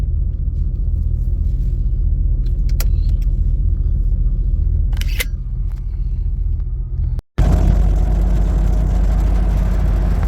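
A squarebody Chevrolet Suburban truck with a fuel delivery problem drives on the highway, a loud steady low engine and road rumble inside the cab, briefly cut out then returning with more hiss.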